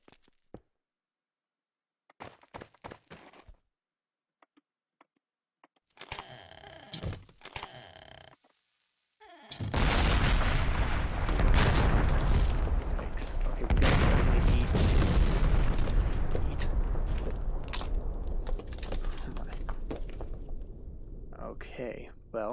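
Explosions in modded Minecraft on the Absurd Craft modpack: sparse clicks and small bursts, then a long stretch of loud, dense, rumbling blasts that overlap continuously, close and dominant, with a voice talking at points.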